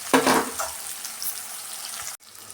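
Vermicelli frying in a pan for shavige bath, a steady broadband sizzle that starts loud and fades slightly, ending in a brief drop to near silence with a faint low hum.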